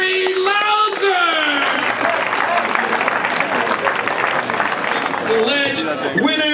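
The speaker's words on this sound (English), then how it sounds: "Make some noise for Murray Louder!" A crowd at a BMX best-trick contest at an outdoor festival cheers and applauds in a loud, sustained wash, with an announcer's amplified voice heard at the start and end.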